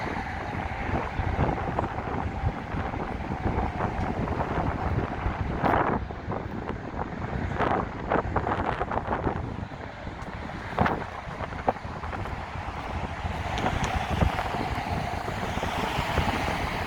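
Strong wind on a street in downtown Chicago, near the Marina City towers, buffets and roars across the microphone in continuous gusts with a few sharper bursts, and no one speaks.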